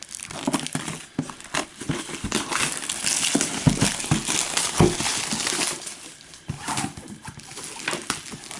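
Marvel Champions card game packaging being opened by hand: steady crinkling and crushing of plastic wrap and cardboard, close and fairly loud, with brief tearing bursts and no talk.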